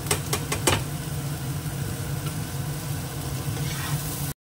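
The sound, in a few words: carrots frying in a pan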